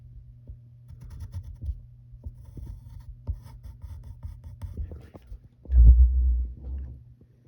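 A pencil sketches lines and a small curved bump on paper while drawing a figure of Black Widow in her suit, giving soft, steady scratchy strokes at close range with a louder rub near the end.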